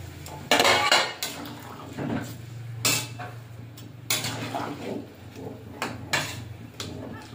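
A metal lid goes onto a cooking pot in a rural Bengali kitchen where a ridge gourd, potato and shrimp curry is simmering. Several close, sharp clanks and scrapes of metal come at irregular intervals with quieter rattles between them.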